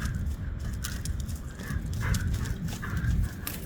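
A horse gallops flat out across open field ground without stopping, its hoofbeats blurring into a steady, heavy drumming under a loud, continuous rush of wind-like noise.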